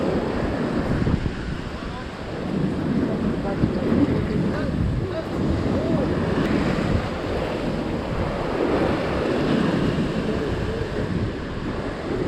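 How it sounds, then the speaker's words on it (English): Ocean waves surge against rocks, a loud, continuous rushing wash with swelling surges, mixed with heavy wind buffeting the microphone. "Without any warning, a wave suddenly surged forward."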